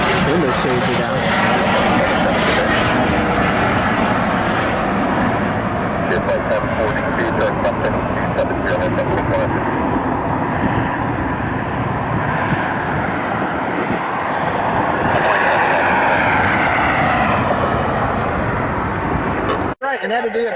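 Jet engine noise from a NetJets aircraft at Cleveland Hopkins International Airport, a steady whining rumble swelling and fading at moderate distance, with someone talking over it throughout.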